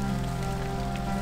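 Rain generated by a rain mod in a Minecraft-like game, a dense steady patter of drops on surfaces, loud and unbroken over the short stretch.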